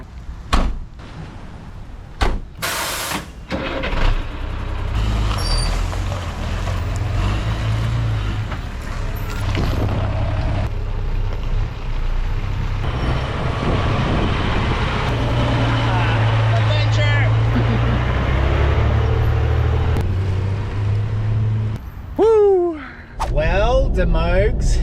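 A sold car is driven away, with door thumps near the start followed by a sustained engine rumble that carries on through the middle and fades toward the end, with people talking at moments over it.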